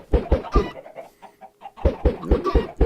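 A flock of Minecraft chickens in a survival island world clucks in quick bursts of short, close clucks, pausing briefly in the middle before resuming with no talk over them.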